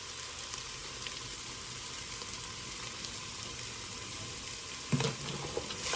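Pasta ingredients sauté in a single pot, giving a steady, dense sizzle throughout, followed by a brief clatter of stirring near the end.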